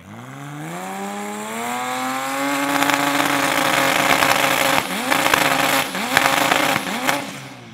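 A 1900-horsepower Toyota Supra race car with a 2JZ engine revs up loudly and close, its pitch climbing then stuttering repeatedly as it hits a rev cut, with sharp pops and no voices.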